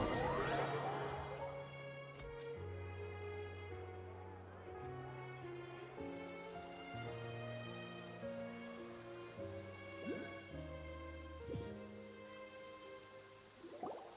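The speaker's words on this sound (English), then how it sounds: "It's been raining non-stop for a few days" Steady rain patters down in the Genshin Impact video game, a soft continuous hiss running beneath prominent game music.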